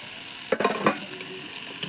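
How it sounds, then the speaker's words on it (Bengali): Fried eggs being stirred into a cooked-down jackfruit curry in a pan, a brief scrape and clatter over a steady background sizzle, close and fairly loud, no voices. "ভেজে রাখা ডিমগুলো দিয়ে একটু নেড়ে চেড়ে নিচ্ছি"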